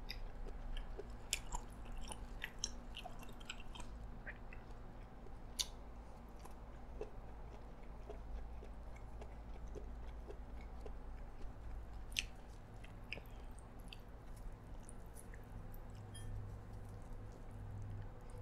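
Baby octopus is chewed close to the mic during a Chinese New Year mukbang of Sushi King Malaysia dishes, with soft, steady wet chewing and small squishy bites, quiet and with no talking.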